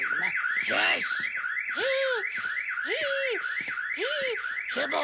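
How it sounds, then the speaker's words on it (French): A school fire alarm in a French cartoon sounds as a loud, steady warbling electronic siren through the whole stretch, with cartoon voices and exclamations calling out over it. "Mais non, cette fois-ci, c'est l'alarme incendie."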